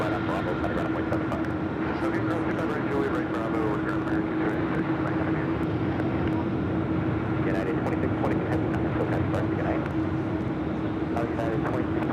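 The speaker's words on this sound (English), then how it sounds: "That's the flight heading to Chicago O'Hare" An airliner departing for Chicago O'Hare gives off a continuous engine rumble with a steady hum under it, while people talk over it the whole time.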